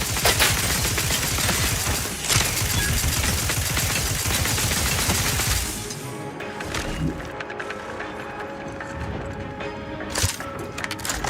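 Gunfire in the video game The Outer Worlds 2, with rapid bursts of shots that are dense and loud for about six seconds and then give way to sparser shots and impacts.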